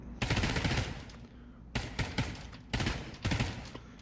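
Submachine gun fire in the VR shooter Pavlov: four sharp bursts of rapid automatic shots, each lasting about half a second, loud and close with short gaps between them.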